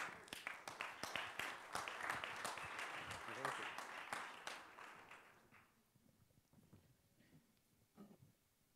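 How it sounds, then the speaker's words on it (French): Audience applause at a conference session, a dense burst of clapping that builds and then thins out into scattered claps and murmuring. "On peut l'applaudir."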